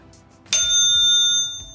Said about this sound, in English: My bike bell